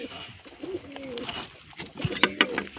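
Soft pigeon coos close by, a few low throaty calls amid light rustling and small clicks, no talking.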